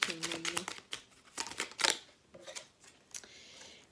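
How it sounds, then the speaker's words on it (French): Crisp papery snaps and flicks of cards being handled, a few quick bursts with brief pauses, close by and fairly quiet. "je sors mes cartes conseils"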